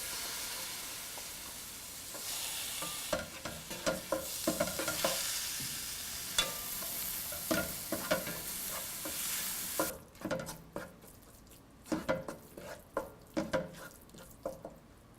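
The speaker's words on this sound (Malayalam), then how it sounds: "ഇതിലോട്ടിനി നമ്മൾ കട്ട് ചെയ്ത് വെച്ചിരിക്കുന്ന ടൊമാറ്റോ ഇട്ട് നന്നായിട്ട് വഴറ്റുക." Chopped tomato sautéing in a pan for chicken tikka masala, a strong hiss of frying broken by repeated spatula scrapes and knocks that continue after the sizzle drops away near the end.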